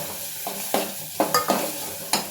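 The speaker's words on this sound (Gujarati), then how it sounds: "એમાં નાખી દઈશું આપણે ડુંગળી, 2 મિનિટ પછી એને સાતળીશું" Onion sautéing in a pan for aloo paratha filling, with garlic paste already in, gives a steady close sizzle broken by several sharp scraping stirs of a spatula.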